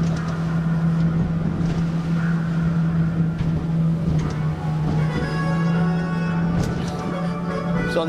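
Motorboat cruising at 17 knots on the Kenai River during a red salmon fishing trip, a steady loud engine drone with a strong low hum and constant wind and water rush throughout, faint voices underneath.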